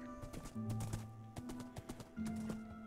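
Minecraft horses in version 1.8 move with quick clip-clop hoof steps in uneven bursts, close and moderately loud, under a steady hum of game music with no talking.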